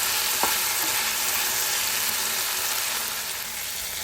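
A few raw green peas are tossed into hot oil in a pan and stirred, giving a loud, continuous sizzle with an early clink and soft scraping that eases slightly toward the end.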